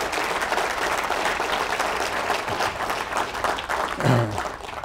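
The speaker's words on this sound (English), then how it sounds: "I want you guys to give a round of applause to Joe and Alicia" An audience at a sports performance summit gives a sustained round of applause, steady dense clapping filling the room for several seconds with a slight swell near the end.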